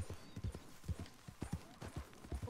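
In Red Dead Redemption 2, a horse's hooves clip-clop at a steady walking rhythm. The quiet, even beats are close by and heard alone.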